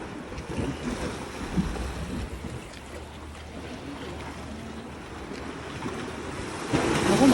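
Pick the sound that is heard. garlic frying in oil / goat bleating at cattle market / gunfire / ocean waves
ocean waves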